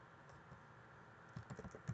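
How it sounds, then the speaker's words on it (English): Quiet typing on a computer keyboard while entering a password into a program, soft scattered key clicks over a low background hum that grow a little busier toward the end. "Let's try just typing in symbols at the beginning."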